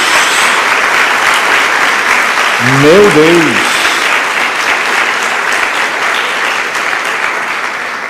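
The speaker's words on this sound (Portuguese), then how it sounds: "Dê uma salva de palmas a Jesus." A church congregation gives a long, dense round of applause during a sermon on Exodus. The steady clapping fills the room throughout, and a voice briefly exclaims over it partway through.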